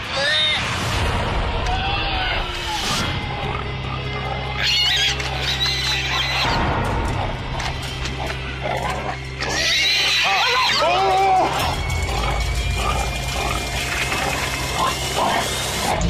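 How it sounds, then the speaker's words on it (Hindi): Horses neighing and whinnying in a noisy outdoor game-show setting, with loud crowd chatter, shouting and a steady low mechanical hum running underneath throughout. "घोड़े ऐसे बोलते हैं।"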